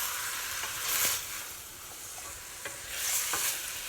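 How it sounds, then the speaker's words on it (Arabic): Meat and onions fry in a pot as they are stirred, a moderate sizzle broken by several scraping spoon strokes around the sides, with no voices. "نقليو كاللحم هيك حتى البصل نشوفوه ذبل شويه، ونحركوا على الجوانب الكل."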